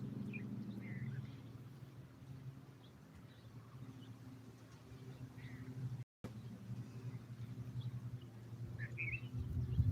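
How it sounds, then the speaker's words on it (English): Birds call and chirp outdoors beneath a tree in wildflowers, brief scattered high tweets over a low steady rumble of distant traffic. "I'm listening to the birds now."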